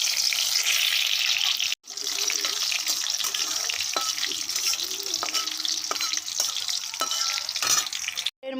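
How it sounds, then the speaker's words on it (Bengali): Cumin seeds, a bay leaf and green chilies hit hot oil for tempering in a vegetarian ghugni, producing a steady, loud, close sizzle with a few faint clinks and taps over it. "এবারে 1 চামচ মতন জিরে দিয়ে দেবো ফোড়নে, একটা তেজপাতা দেব, আর 2টো কাঁচা লঙ্কা দেব"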